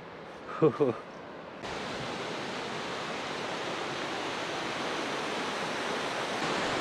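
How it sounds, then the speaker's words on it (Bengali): A waterfall on the Annapurna trail in Nepal rushes in a broad, steady roar that swells in abruptly after a brief spoken voice at the start, then holds even and loud to the end. "ওই দেখতে পাচ্ছেন ঝর্ণা, সেটা উপর থেকে নেমে এসে এখান দিয়ে বয়ে যাচ্ছে।"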